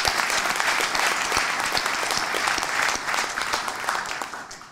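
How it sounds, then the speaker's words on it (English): Sustained audience applause at a symposium on Paraguay and South Korea relations, a dense steady clatter of many clapping hands that holds loud throughout and fades slightly at the end. "Could we give them a round of applause?"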